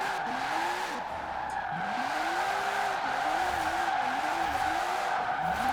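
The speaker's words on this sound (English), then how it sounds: "can I all-wheel drift this? Open diff, come on." A twin-turbo classic Porsche drifts in Forza Horizon 4, tires squealing in long wavering skids that rise and bend continuously over a steady engine roar, loud and close with no talk.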